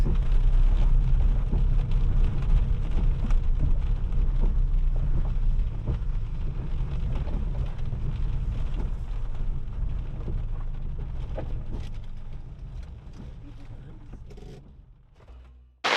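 Heavy rain pours steadily at a campsite during a massive storm, a dense continuous roar with occasional low thunder rumbles, fading somewhat toward the end.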